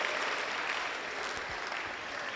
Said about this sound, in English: All men seated there, clap for yourselves.